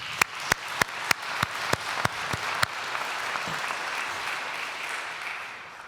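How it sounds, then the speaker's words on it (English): Audience applause at a graduation ceremony in Greenwich, with loud single claps leading a few crisp beats before a steady wash of clapping from a large crowd that holds on to the end. "let's have a big round of applause for you all"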